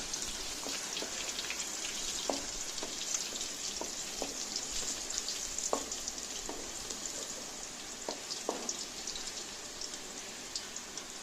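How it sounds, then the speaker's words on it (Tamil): Chopped ginger and garlic sautéing in hot oil for chilli parotta, giving a steady, soft, even sizzle with scattered small pops and crackles throughout, fairly quiet and without talking. "இஞ்சி பூண்டு கட் பண்ணதை சேர்த்து எண்ணெயில் போட்டு வதக்கிக்கணும்."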